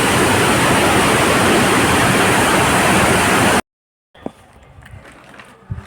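Devkund Waterfall in Similipal National Park, Odisha, water plunging from a height in a loud, dense, continuous roar for several seconds, then a sudden cut to quieter outdoor ambience with faint rushing water.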